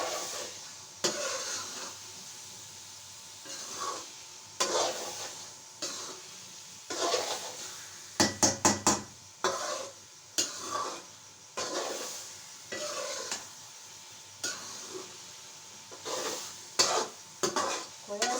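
Carrot halwa frying in a pan, stirred steadily with repeated scraping strokes over a continuous sizzle, with a brief burst of sharp clinks midway; no talking.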